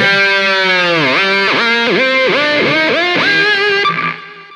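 Heavily distorted electric guitar plays a solo from a song, its sustained notes repeatedly dipping and rising in pitch from whammy bar (tremolo arm) bends, loud and alone before fading at the end.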